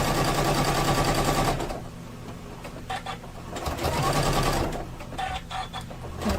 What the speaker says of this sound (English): we are going to stitch along where we can see